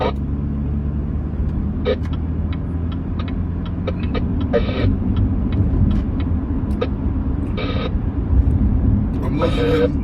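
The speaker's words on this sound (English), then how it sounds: "taking the car for a little run. It's a good run. To warm up the engine" A car engine running on a short warm-up drive after storage, a steady low rumble throughout with scattered clicks and bursts of radio static on top.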